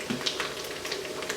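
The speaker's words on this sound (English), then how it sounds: "So you keep stirring and frying." Steady sizzling of rice frying in an Instant Pot, with soft scraping from stirring running throughout, close and moderately loud.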